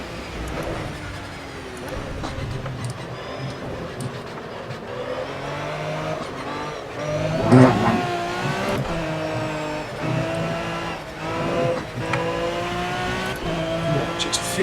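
A race car in the Project Cars racing game drives hard and fishtails, its engine droning and revving with rising and falling pitch as gears change, with a brief louder burst of tire and engine noise midway, continuous and close.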